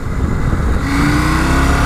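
A 2019 KTM 790 Adventure R motorcycle, its twin-cylinder engine derived from the 790 Duke, revs loudly and steadily at close range, with the pitch rising partway through and no voices present.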